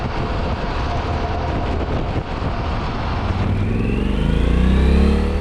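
A Yamaha Super Tenere motorcycle cruises on a highway with a constant engine drone and heavy wind rush, then the engine pitch climbs as the rider accelerates near the end.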